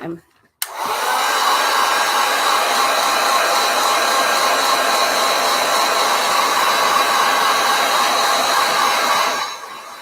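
A handheld hair dryer blows over gouache paint in a sketchbook, switching on with a click and then running as a loud, steady, even whoosh close by for about nine seconds before it cuts off.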